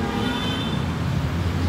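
An MRT train running past a hotel frontage in Manila, a steady, loud rumble of wheels on elevated rails blended with street traffic, with no talk.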